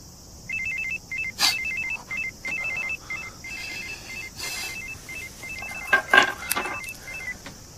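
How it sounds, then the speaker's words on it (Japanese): A telephone ringback tone sounds while a call is placed during a Japanese TV show, rapid repeated warbling rings in regular bursts with a few louder clicks and knocks between them. "電話出てくれるかな。"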